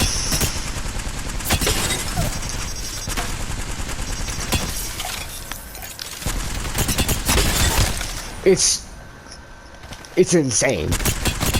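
A gun in Apex Legends is fired continuously until it overheats: long stretches of rapid, loud automatic fire with sharp cracks, then it cuts off into quieter clicks and clatter. Someone speaks briefly.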